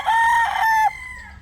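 A gray broodcock rooster crows once, loud and close, a single drawn-out call with a sharp rising start and fading tail, alone without talk.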